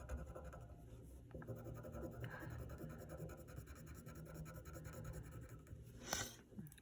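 Graphite pencil shading dark tone on paper: a very quiet, continuous scratchy rubbing of the lead across the sheet, close up and steady, with a slightly sharper stroke near the end.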